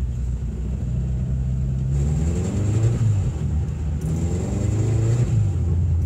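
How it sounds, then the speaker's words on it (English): A car engine revs up and down twice as the wheels spin without grip on snow, a whining, rising drone over a low rumble. "It's just my wheels spinning across the ground here."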